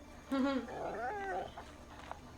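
A creature growls and whines in a TV science-fiction episode, a moderately loud rising and falling vocal snarl lasting about a second, followed by faint background noise.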